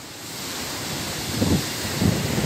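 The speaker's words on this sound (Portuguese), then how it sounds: "Olha só essa onda aí. Uma onda realmente bastante grande." Large ocean waves break at Ponta do Casqueiro in Garopaba during a storm swell, a broad continuous roar with wind noise and two heavier surges building near the end.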